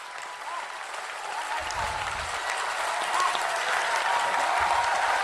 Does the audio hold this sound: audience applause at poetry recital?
yes